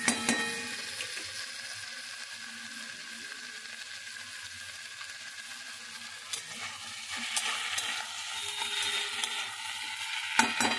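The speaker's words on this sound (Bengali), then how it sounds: "আর একটু কষাই করবো, ব্যাস হয়ে যাবে" Curry stir-fried in a pan, a steady close sizzle with soft scraping stirs throughout and a few louder clatters near the end, no voices.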